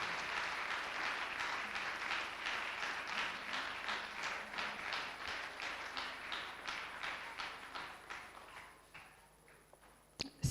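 A church congregation applauding for Jesus, with rapid, rhythmic clapping that rises and falls in waves and then fades out, ending in a couple of sharp knocks.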